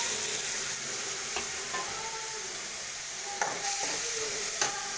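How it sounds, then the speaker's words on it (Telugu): Tomato pieces frying in a pan after ginger, a steady close sizzle with occasional light stirring scrapes, no voices. "అల్లం పచ్చివాసన పోయిన తర్వాత టమాటా ముక్కలు వేసుకొని వేయించుకుందాం"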